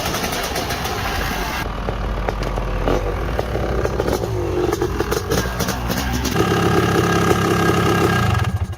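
Honda CR500R supermoto idles with a lumpy, throbbing big single-cylinder note and mechanical clatter, close and loud, rising slightly near the end with a few rough blips.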